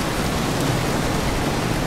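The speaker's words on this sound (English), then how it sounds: "Rain's a bit splashy" Steady rain splashing in Half-Life 2: Episode 2, a dense, even hiss of falling water that fills the short moment without any voices.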